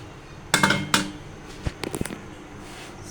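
A lid is set onto a cooking pot of desi-style meat and peas curry: two sharp metallic clanks close together, then a few lighter scattered taps. There is no talking.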